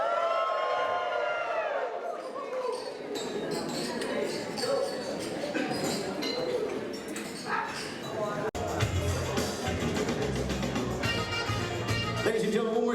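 Wedding guests break into loud applause and cheering after a toast, with whoops and shouts rising over a crowded room and voices talking through the din.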